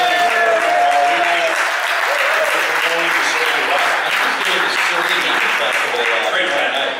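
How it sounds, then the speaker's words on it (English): Audience applause and cheering for a bassist introduced on a Friday football radio show in Chanhassen, steady and dense throughout, with a voice speaking over the clapping. "Can I get a round of applause for Jared Wells?"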